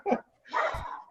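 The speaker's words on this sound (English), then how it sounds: "my dogs will start barking the minute that this call starts" Dogs bark indoors at home, two quick close barks in succession, fairly loud against a quiet room.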